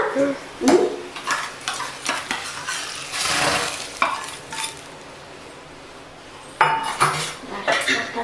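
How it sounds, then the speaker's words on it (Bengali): Metal pots, pressure cooker lid and utensils clatter and scrape in a home kitchen while dal is prepared, with repeated clinks and knocks, a longer rattling stretch and a pause before more clanks. "এইটা কুকারে দিয়ে কুকারে ঢাকনাটা লাগিয়ে দেবো"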